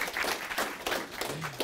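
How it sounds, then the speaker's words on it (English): Short burst of audience applause for the hosts at an Avid and MPSE product preview event, a moderate patter of clapping hands in uneven waves. "Please, round of applause for Avid and Rich McKernan."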